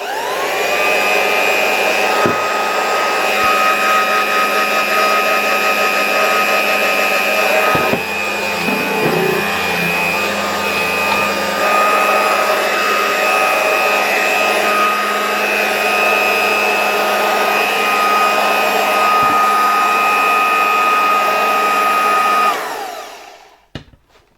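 A 1992 Royal Dirt Devil 150A handheld vacuum cleaner runs with a loud, steady motor whine and airflow roar for over twenty seconds, a few small knocks along the way, then switches off and spins down at the end.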